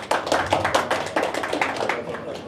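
An audience at a live health workshop gives a short burst of clapping, a brisk series of crisp hand claps in a loose rhythm, close and clear.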